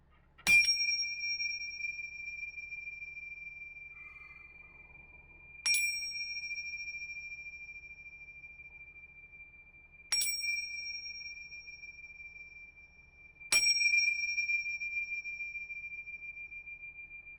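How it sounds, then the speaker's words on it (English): A small bell is struck four times before a tarot reading. Each clear, ringing tone strikes sharply and then fades slowly over several seconds, with long gaps between strikes and no one talking. "We'll ring the bell, right?"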